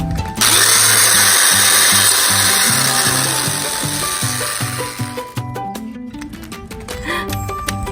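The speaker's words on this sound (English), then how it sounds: "We're gonna drill a hole kind of close to the top." A power drill bores a hole near the top of a sun catcher, whining loudly and steadily for several seconds, then tapering into rough, uneven grinding as the bit works through.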